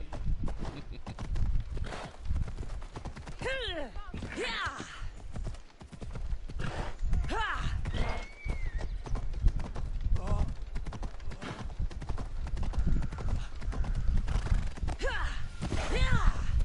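Horse hoofbeats in Assassin's Creed Odyssey, a steady clip-clop of galloping hooves throughout, with occasional whinnies and a voice talking over it.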